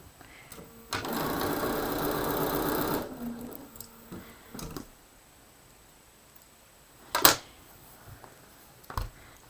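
A sewing machine runs in one steady two-second burst while stitching a quilt block, close and fairly quiet, followed by scattered soft clicks and handling sounds.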